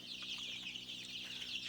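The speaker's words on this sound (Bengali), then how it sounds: "সোনালী মুরগি পালন।" Sonali chickens, a local non-hybrid breed, cluck softly in a flock, with faint overlapping chatter and a steady hiss of background noise.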